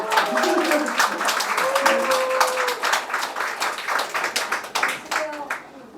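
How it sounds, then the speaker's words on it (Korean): An audience at a lecture event applauds as the actor walks in, giving a dense run of sharp claps that goes on for several seconds. Speech runs faintly underneath, and the clapping tapers off at the end. "박수!"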